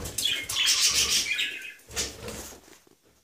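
Pet budgerigars chirp and flutter their wings close by while being moved between cages, with two dense bursts of bright twittering and wingbeats separated by a short lull.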